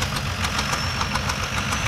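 Diesel tractor engine runs steadily at a 4-H tractor pull, a loud, close, rough knocking rumble with a fast regular pulse and no talking.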